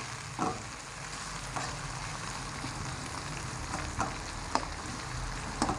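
Tomatoes frying in a pan for hotel-style sambar, giving a continuous soft sizzle with a few scattered clinks and stirring taps, close and unaccompanied by speech.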